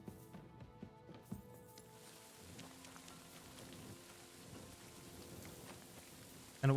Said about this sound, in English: why is it making rain sound without raining?